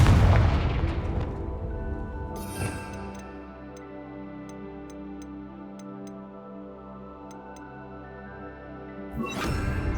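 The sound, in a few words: Confringo fire-blast spell explosion in Hogwarts Legacy video game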